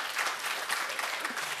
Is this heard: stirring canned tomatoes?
no